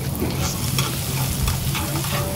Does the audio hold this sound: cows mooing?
no